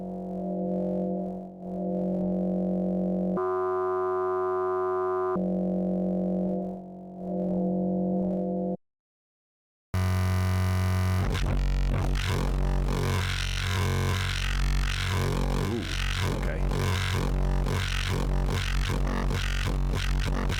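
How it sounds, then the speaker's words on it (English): A mono synthesizer bass patch built from wavetables, with held notes that drone steadily and shift in timbre. After a brief silence it returns as a loud, dense, gritty bass tone that sustains to the end, with no talking. "So that's how I normally start doing my bass patches, just holding down."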